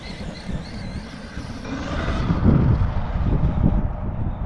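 The motor of an Arrma Mojave 6S EXB RC car on Pro-Line paddle tires whines steadily with a metallic, rattling, bumpy rumble as wheels jolt over divots, growing a bit louder midway; wind buffets the microphone.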